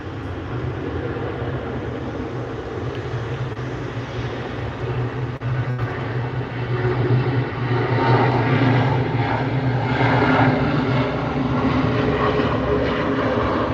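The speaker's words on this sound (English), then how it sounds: "Enjoy the takeoff from the Southwest going to Las Vegas." A Southwest airliner takes off bound for Las Vegas, its jet engines a loud, steady roar that swells and grows rougher as it gathers power, with no voices over it.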